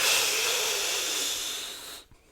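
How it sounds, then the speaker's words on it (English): Wind instrument students in a band class draw in a long, steady, hissing breath together, which cuts off abruptly after about two seconds. "Take a deep breath, everybody."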